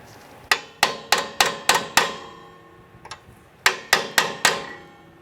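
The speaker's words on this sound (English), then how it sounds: "I'm going to rotate this to get to any other tabs on the back side here, to tap those over" Metal retainer tabs on a 1995-2001 Ford Explorer parking brake cable are tapped over. The sharp, ringing taps come close up: a quick run of five, a faint lone tap, then four more.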